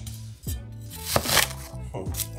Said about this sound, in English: And then you're able to cut the onion, you know, this way and that way.